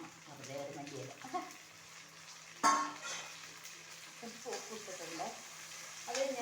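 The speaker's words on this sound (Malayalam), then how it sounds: "ഇനി തക്കാളിക്ക് ഇട്ട് കൊടുക്കാം. ഒന്ന് നല്ലോണം വഴണ്ടി വരട്ടെ." Tomatoes sautéing in a home-cooking pan give a steady, soft sizzle and crackle, with a brief louder clatter partway through, running under ongoing talk.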